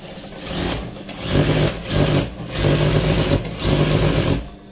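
A sewing machine runs a lock stitch joining a frill onto a petticoat, with four or five loud, close bursts of steady motor whir separated by short pauses, and no talking.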